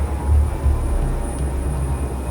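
Small aircraft engine idling on a remote mountain airstrip before a supply flight carrying rice, a steady low droning rumble with gentle swells and no voices.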